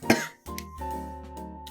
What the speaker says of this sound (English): I do have a slight cough.